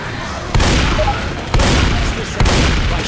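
Loud, close gunfire from Left 4 Dead 2: three heavy shots at roughly one-second intervals, each followed by a rumbling tail over a dense background of game noise.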